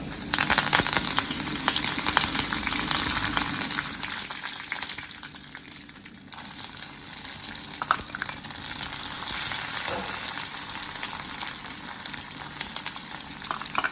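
Dried red chilies and curry leaves fry in hot oil with a dense crackling sizzle that is loud at first, dips briefly, then holds steady.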